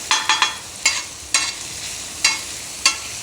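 Brain masala (bheja fry) cooking on a tawa griddle gives a soft steady sizzle broken by sharp scraping stirs, about seven close strokes at an uneven rhythm.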